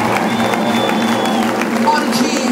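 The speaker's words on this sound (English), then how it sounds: "can we have a round of applause for the boys in the band, please?" A concert crowd at the Melkweg in Amsterdam applauds and cheers for the band at a show in November 2011, a steady, dense wash of clapping and crowd noise filling the room throughout.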